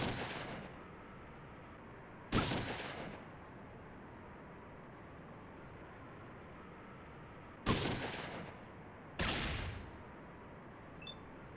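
Fallout 2 gunfire: four separate sharp bursts with clear gaps between them, each with a short decaying tail, over a low steady background hum.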